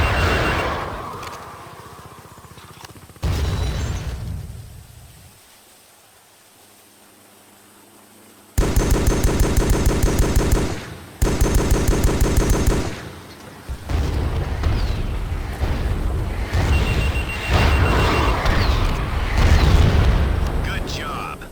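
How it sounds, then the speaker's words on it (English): Two loud, rapid bursts from an emplaced .50 cal machine gun in the military video game Joint Operations, each a dense rattling string of shots lasting a couple of seconds, surrounded by rumbling battle noise and talk. "Man the emplaced 50 cal machine gun to finish them off"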